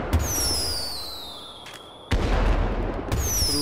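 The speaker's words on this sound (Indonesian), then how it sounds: "Pas pergantian tahun, masa kita kagak nyalain petasan?" Firecrackers set off for New Year crackle and pop in dense, loud bursts, with whistling rockets rising overhead and a sharp bang partway through, the noise continuous throughout.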